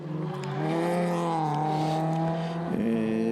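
A historic rally car runs on a stage of the Platinium 5 Rajd Memoriał, its engine note rising and holding in a strong, steady drone before a brief shift and pickup near the end.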